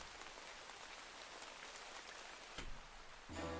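Steady rain falling on an evening forest road, a dense even hiss of drops on surfaces throughout, with a low rumble joining near the end.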